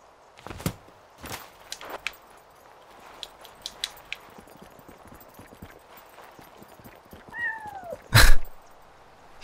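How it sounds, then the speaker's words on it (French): A cat meows somewhere out of sight in the video game Yonder: The Cloud Catcher Chronicles, a rising two-part call near the end, after scattered soft footsteps and clicks in a quiet game ambience. "c'est un autre chat planqué quelque part ici"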